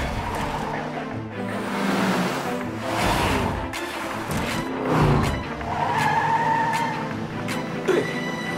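A fast racing car from an animated Mecard episode roars and skids, with engine surges, tire squeals and whooshing passes layered loudly over the scene.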